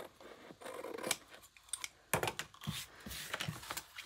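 Craft knife trimming around the edge of a document wallet, with close, crisp scratchy cuts and short scraping strokes in irregular bursts, no voices.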